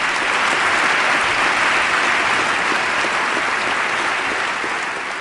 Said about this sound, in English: Can you give her a roaring round of applause?